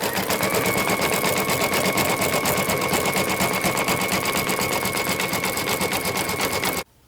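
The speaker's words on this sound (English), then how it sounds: "Now I'm going to bring it to the embroidery machine. We're at stitch 7, which is the zigzag stitch." An embroidery machine sewing a zigzag stitch runs steadily with a fast, even mechanical chatter, close and continuous before stopping abruptly at the end.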